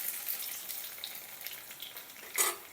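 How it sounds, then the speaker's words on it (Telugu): Chopped onions fry in a pan for capsicum masala curry, a close, continuous crackling sizzle with a brief louder hiss near the end. "ఈ ఉల్లిపాయలు బాగా వేగాలి"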